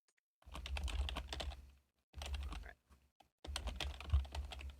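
Keys clack steadily on a computer keyboard in bursts of rapid typing separated by short pauses, close and fairly quiet, with a brief spoken word near the start.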